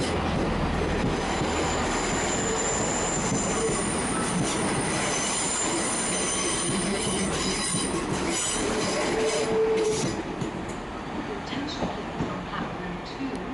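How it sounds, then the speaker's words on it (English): A Great Western Railway Class 165 diesel unit pulls into Cardiff Central, its wheels squealing and rumbling loudly and steadily close by, with faint station noise behind. "here is a Great Western Railway train arriving from Portsmouth Harbour"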